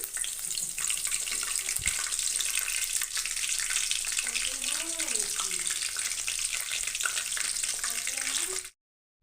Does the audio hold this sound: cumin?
yes